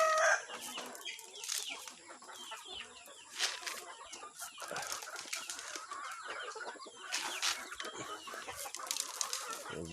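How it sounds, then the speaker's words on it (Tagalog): Chickens cluck and crow inside a coop where hens are laying eggs, with occasional wing flapping; dense, overlapping bird calls continue throughout at close range. "Ayan, nangingitlog na sila."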